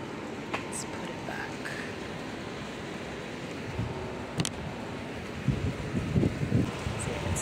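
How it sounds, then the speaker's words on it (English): Steady wind roars across the microphone with low rumbling gusts and buffeting, and muffled voices talk underneath. "Keeps flying off with the heavy winds."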